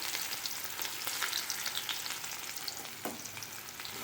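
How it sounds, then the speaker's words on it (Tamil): Chopped onions with cumin seeds sizzle and crackle steadily in a hot pan, a close, continuous frying hiss with scattered pops and a brief stirring scrape, no voices. "வெங்காயம் கொஞ்சம் வதங்கட்டும்."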